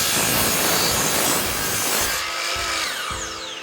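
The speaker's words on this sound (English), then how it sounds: "We're gonna have to take it up to the miter saw and get all that splintery dead crap off of there." A miter saw trims the splintered, weathered end off a wooden tamper handle: a loud, close blade-through-wood cut that whines down as the motor spins off, leaving a few light knocks at the end.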